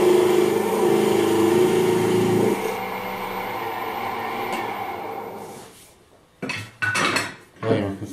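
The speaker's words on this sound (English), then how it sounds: "now I'm going to part off the end here, the rough end" A wood lathe's parting tool cuts off the rough end of a turned goblet with a copper pipe stem. A loud, steady scraping whine lasts a few seconds, the motor hum then fades away, and brief talk follows.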